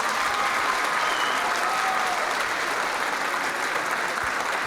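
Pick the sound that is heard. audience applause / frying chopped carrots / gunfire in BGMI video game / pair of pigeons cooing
audience applause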